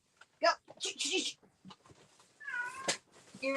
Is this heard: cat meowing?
yes